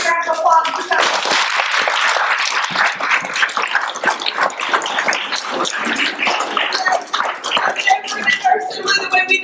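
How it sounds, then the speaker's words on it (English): A school assembly audience claps for the presenters during an anti-bullying week event. The applause is loud and sustained, mixed with cheering voices, and speech comes back near the end. "let's give them a big, both of them a big round of applause for that"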